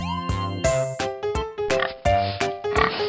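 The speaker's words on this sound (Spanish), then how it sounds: "Hoy vamos a aprender cómo se escribe y hace el puerco." Pig oinking in an animal-sounds segment for children: a run of about eight short, loud grunting calls in an even rhythm, close and clear, with no speech over them.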